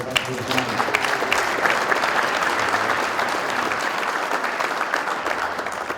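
Thick, continuous applause from a crowd welcoming the national volleyball team coaches, steady and even at moderate volume with a murmur of voices underneath.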